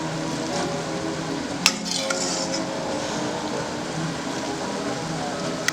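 A wooden spatula stirs mushroom risotto in a pot, giving a steady wet scraping and soft bubbling texture throughout, with a couple of brief clinks against the pot.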